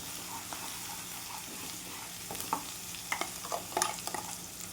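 Masala frying in oil for a jackfruit curry, a soft steady sizzle with occasional scraping stirs near the end, fairly quiet.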